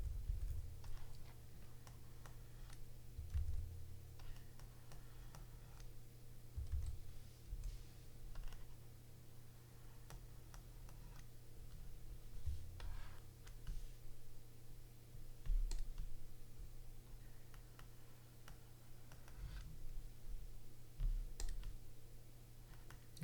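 A computer mouse clicks at an uneven pace against a low room hum while someone sculpts a digital model, the sharp clicks faint and close with no talking over them.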